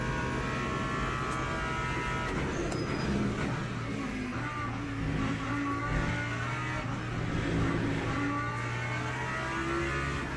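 An LMP2 race car in the video game Le Mans Ultimate, its engine droning and revving steadily at a distance over continuous racing car noise.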